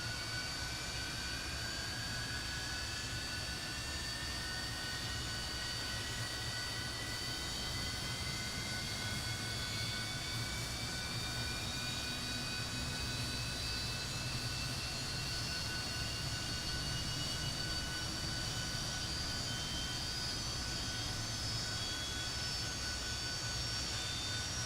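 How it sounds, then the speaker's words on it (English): Fokker F28 jet engine spooling up in a flight simulator, a continuous whining roar with rising tonal whines over a steady broadband rush, sustained and even throughout. "I'm going to let this engine start up here"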